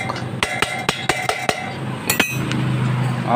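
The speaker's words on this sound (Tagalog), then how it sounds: "kailangan pa natin gumamit ng pang pukpok" Sharp metallic hammer blows ring out in a quick series of about eight strikes on a loose rear wheel hub and bearing, followed by a clank and a fading rattle.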